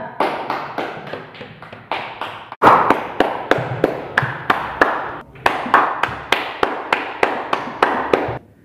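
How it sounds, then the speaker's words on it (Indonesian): A small group claps in a quick, fairly regular burst, pauses briefly, then claps again, close and loud. "Tepuk tangan buat kita semua ya."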